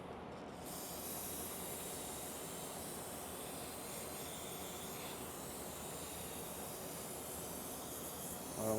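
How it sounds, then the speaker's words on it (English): Brake cleaner aerosol sprayed through a straw into a crevice on a 2023 Ford 10R140 transmission, a steady, even hiss that runs unbroken for several seconds, close and moderately loud, with no talk. "We're gonna brake clean all this."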